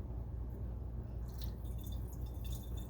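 Dirty water poured out of the tank of a Hoover Smartwash carpet cleaner, a steady low splashing and trickling that runs the whole time with a faint dripping quality, heard close up with no talking.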